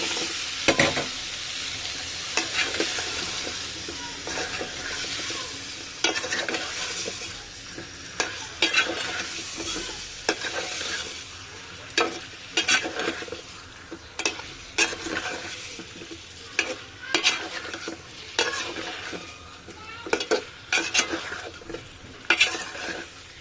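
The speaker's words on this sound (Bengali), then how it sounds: "আগে আমি আলুটা দিয়ে কিছুক্ষণ কষিয়ে নেব।" Potatoes frying in oil in a pan for vegetable khichuri, a constant sizzle broken by repeated scraping and clacking stirs of a spatula, close and clear, with no voices.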